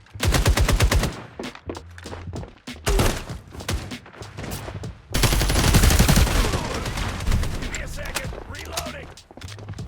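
Rapid automatic gunfire in the FragPunk shooter, with loud close bursts of fast repeating shots, brief pauses, then a long sustained barrage blending into explosions and game effects.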